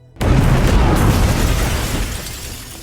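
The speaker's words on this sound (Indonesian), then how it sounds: "setelah ledakan tersebut" A sudden, loud explosion in an action film bursts in after a brief silence, its heavy booming roar and debris rumble slowly dying away over a couple of seconds.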